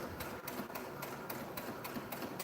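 A sewing machine stitches fabric for a homemade surgical mask, running in a fast, even rhythmic whir with regular needle pulses, close and continuous with no talking.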